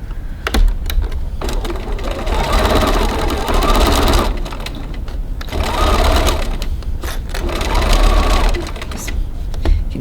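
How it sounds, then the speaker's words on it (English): A sewing machine stitches a quarter-inch seam on a cross-body bag, running in loud, steady mechanical bursts with a brief pause between runs, close up. "So now we're just going to stitch this in place using a 6 millimeter 1/4 of an inch seam"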